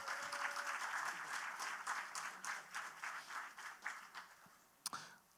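Audience applause at a French portrait awards ceremony, a quiet, steady patter of many hands from a seated crowd that thins toward the end with one sharp louder clap near the close.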